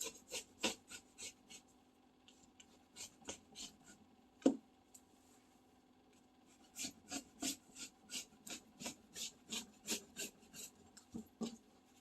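A rotary cutter slices through fabric on a cutting mat in quiet, rhythmic bursts of short rasping strokes, with one sharper click midway and no talk.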